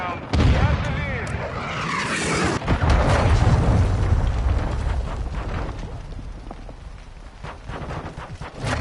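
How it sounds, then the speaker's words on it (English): A cruise missile explodes in Modern Warfare 2 with a heavy, loud blast and rolling rumble, followed by continuous battle noise and scattered gunfire, with a voice speaking over it. "Friendly cruise missile inbound."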